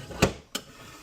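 A wooden compartment of an antique China Trade Davenport desk slides out on tongue and groove joints, giving two brief, close wooden knocks a fraction of a second apart in an otherwise quiet room.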